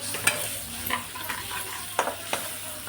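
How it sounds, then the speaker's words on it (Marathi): Onion frying in oil in a pan for palak paneer, a continuous soft sizzle broken by several sharp scraping stirs of a spoon, close and alone. "मी तेलातच वापरते मस्त फ्राय होऊन देऊ गुलाबी रंगापर्यंत"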